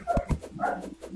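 Ollie the dog barks several times in short yips and whimpering woofs, close and fairly loud, with brief gaps between bursts.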